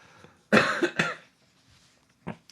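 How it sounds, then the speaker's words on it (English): A person getting over a cold coughs harshly twice close to the microphone, a short pause, then a fainter single cough near the end, in an otherwise quiet room. "So all of my coughs, I apologize, anyone listening"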